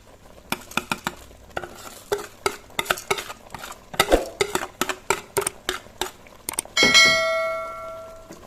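A spoon stirs washed rice into a pot of boiling evaporated milk for Thai khao mok, a run of sharp metallic clinks and scrapes against the pot, ending in a louder ringing clang.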